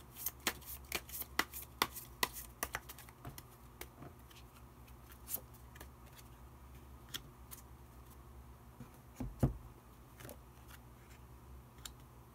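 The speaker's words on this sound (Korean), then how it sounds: "마법사 카드 한 장 더 뽑아보도록 하겠습니다." Tarot cards being shuffled and drawn, a quiet run of crisp riffling clicks and snaps, dense at first and then sparser, with a few sharper slaps toward the end, no voices.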